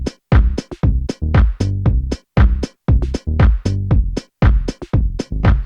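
A 90s-style house beat with a synth bass line locked to a punchy kick drum, steady and repetitive, loud and alone with no voices.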